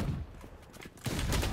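Shotgun fire in the video game Valorant, a few loud, close blasts in quick succession, with the last burst the heaviest.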